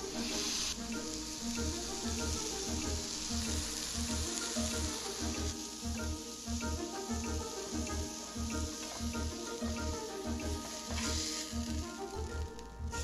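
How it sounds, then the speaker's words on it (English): A burger meat patty sizzles on a stovetop in a steady, close, continuous hiss with faint crackles that runs the whole length without any talking. "The sizzle, that sweet, sweet sizzle."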